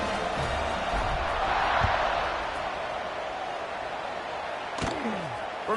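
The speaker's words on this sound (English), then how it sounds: "this crowd is buzzing after that last score." A stadium crowd in a college football video game buzzes as a broad, steady murmur of many voices. A thump and a brief whoop come near the end.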